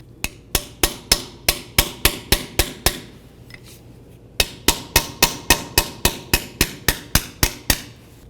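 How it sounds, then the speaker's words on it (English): A hammer strikes metal in sharp, evenly spaced blows, about nine in a row, then a brief pause and another quick run of ringing hits, freeing a snap ring from a 1998-2002 Honda Accord front wheel bearing hub. "Try to break it free with a hammer."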